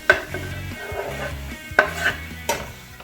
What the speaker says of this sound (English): So now adding these mushrooms into the mix